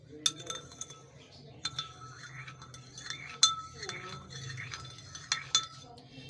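A spoon clinks against the side of a glass or pot in scattered taps while stirring sugar into water to dissolve it, under quiet background noise and a low voice.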